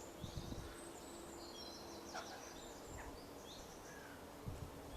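Faint, scattered birdsong chirps drift in from a distance over a steady low hum of background noise, with a few brief thumps.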